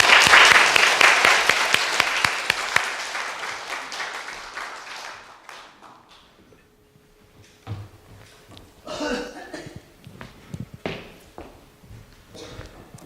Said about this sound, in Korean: 큰 박수로 맞으시겠습니다